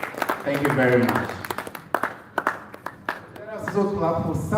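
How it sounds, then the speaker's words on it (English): Thinning audience clapping at a university health forum, a few distinct claps scattered between stretches of someone speaking into a microphone. "Keep clapping."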